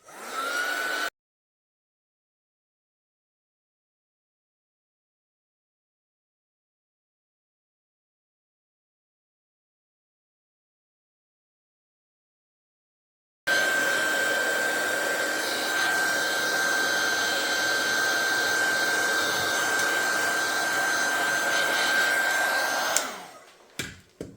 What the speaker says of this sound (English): come in with my heat tool and just try to dry that background off